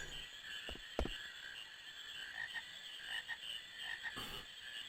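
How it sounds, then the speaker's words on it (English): A steady chorus of frogs croaks in the Final Fantasy IX video game, an even droning buzz running throughout with one brief sharp click near the start. "Aha! Frogs!"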